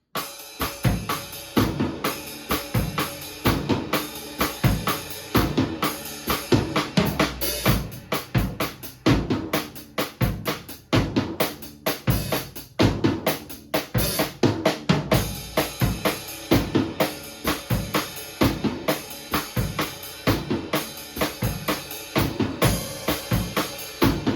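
Drum kit plays a steady cha-cha groove with busy cymbal or hi-hat eighths and recurring tom and kick accents, continuous and full for the whole stretch.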